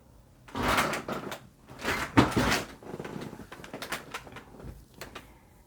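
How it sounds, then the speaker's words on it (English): A squeaky chair creaks and shifts in a series of irregular, fairly close creaks and rubbing groans, loudest near the start and middle, then trailing into softer creaks. "I have a squeaky chair warning for you."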